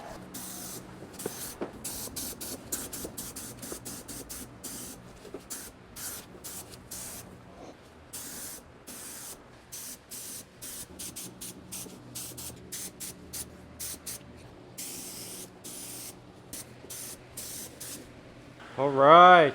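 Short hissing bursts of an aerosol spray can lay a light coat of yellow paint on parts during a 1976 Triumph Spitfire restoration, repeated close puffs of varying length with a brief louder noise at the end.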